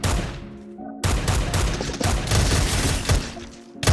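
Dense, rapid gunfire rattles through a video game firefight in continuous loud bursts with brief gaps, like automatic weapons firing nonstop at close range.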